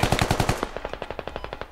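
Rapid automatic gunfire in the video game Squad, a loud, close, steady stream of shots that drops slightly in level and continues as quicker, lighter rounds, with no talking over it.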